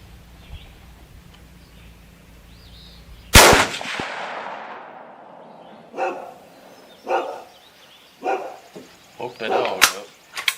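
At a rifle range where a .30-06 rifle is fired, one sharp shot rings out, and a nearby dog answers with a string of separate barks, with a person speaking faintly in the background.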